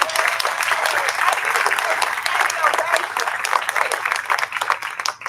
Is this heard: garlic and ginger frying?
no